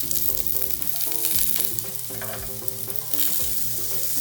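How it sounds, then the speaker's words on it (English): Nectarine halves searing on a lightly oiled grill pan, a strong continuous sizzle with crackling spatters and a few shifting scrapes, close and loud throughout. "Turn the nectarines once they've gotten nice grill marks."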